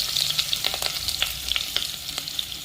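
Half an onion fries in a pan with a bright, steady sizzle, broken by small clicks and scrapes of stirring. No one speaks.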